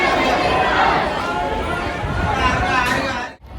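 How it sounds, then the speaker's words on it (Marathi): Dense chatter rises from a crowded queue at a temple in Titwala: many voices overlap in a close, busy murmur with one voice nearer the front, dipping briefly just before the end. "खूप गर्दी आहे."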